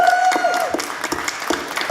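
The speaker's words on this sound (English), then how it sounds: "can we get a big round of applause for Chipper for putting on this panel?" Convention audience at ALICON 2019 applauding a panel host, a brief burst of steady crowd clapping indoors with a held tone fading out at the start.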